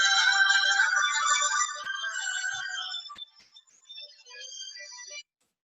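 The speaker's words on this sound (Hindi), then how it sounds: "I am getting a phone call." An incoming-call phone ringtone plays a bright, melodic electronic tune, clear and fairly close for a few seconds, then thins into sparse fragments before cutting off abruptly, with no talking over it.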